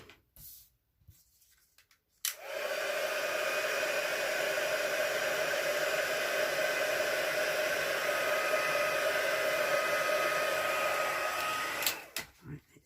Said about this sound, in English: I'll just heat emboss that.